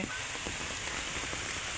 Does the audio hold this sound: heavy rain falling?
yes